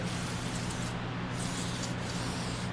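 Petroleum-based cleaner sprays in a steady, close hiss around the fuel pump of a C6 Corvette, one continuous blast with a few short breaks in the stream.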